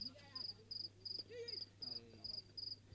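Crickets chirp in steady repeating bursts, a high rhythmic trill that keeps returning, with a low steady hum and faint distant voices beneath.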